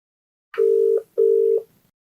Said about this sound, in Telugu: మరి కాల్ చేసేద్దామండి.